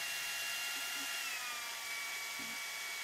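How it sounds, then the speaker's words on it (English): A drill bores a hole into a Berdan-primed brass cartridge case, producing a faint, thin high whine that slowly lowers in pitch over a soft hiss, with two brief low knocks. "we can now place the drill into that spot and start to drill a hole"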